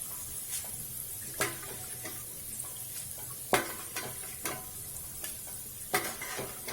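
Chana dal fries in hot oil with a quiet, steady sizzle, broken by several sharp spatters and stirring clinks at irregular intervals.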